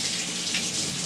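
Cold water runs steadily from a kitchen tap while raw chicken is washed, a continuous close rushing hiss with no pauses and no talk.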